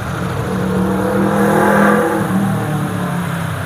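A 2018 motorcycle engine revs steadily, its drone swelling briefly in the middle before settling back to a constant idle-like hum, close and loud.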